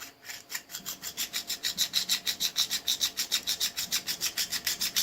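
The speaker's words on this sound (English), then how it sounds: "I'm partially covering this hole, so I do have to file it." A hand file rasps back and forth across a metal part for a snowblower wiper motor repair, in even, rhythmic strokes, close and steady with no talking.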